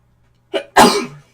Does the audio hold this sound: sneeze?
yes